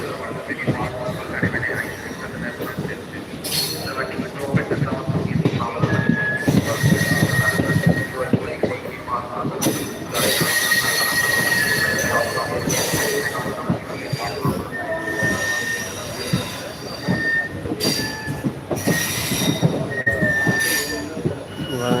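A train bound for Villupuram departs a station in Tamil Nadu, rumbling loudly close by, its wheels screeching and squealing against the rails as it rolls along, with faint voices now and then.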